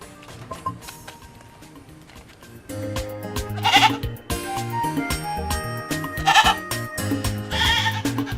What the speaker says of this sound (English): You hear the voice? I hear that. That's usually the goat